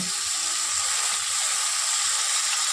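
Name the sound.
hilsa wrapped in bottle gourd leaves frying in a pan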